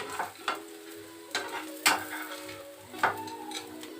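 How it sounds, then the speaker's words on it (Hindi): Veg burger tikki patty frying in a pan, a soft steady sizzle with a few sharper crackles and pops as it browns, close and fairly quiet, no talking. "ये देखिए मेरा पक चुका है, इसको मैंने पलट दिया है। इस तरह से मैं सेक लूँगी इसको"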